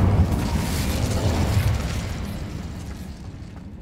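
An Incendio fire spell erupts in Hogwarts Legacy, a loud, full burst of fiery roar that fades steadily over a few seconds with no talking.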